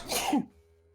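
A single short sneeze-like burst, sharp and close, ending abruptly into quiet.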